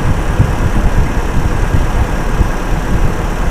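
A Toyota Kijang Super engine idles steadily during a tune-up, a continuous low rumble that stays even and close throughout with no revving and no voices.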